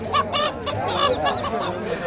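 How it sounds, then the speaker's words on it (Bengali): Native ducks quack and honk repeatedly in a busy, noisy rural village poultry market crowd, with several birds calling close by. "এদিকটাতে দেশি হাঁস আছে"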